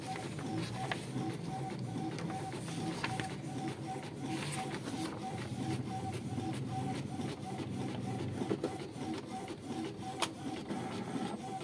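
An HP PSC 1350 all-in-one printer runs steadily and close by, its mechanism whirring and clicking through a continuous feed cycle with occasional sharper clacks, with no talk over it.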